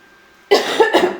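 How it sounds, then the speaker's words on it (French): Two or three quick, close coughs from a woman with the flu, sharp and loud, breaking a near-silent indoor room. "Et la toux."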